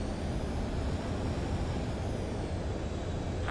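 A jet aircraft in a video game coming in to land, giving a steady, dense engine roar that holds level throughout without breaks.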